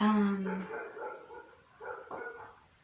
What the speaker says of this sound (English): whenever I try to film, the dogs are always barking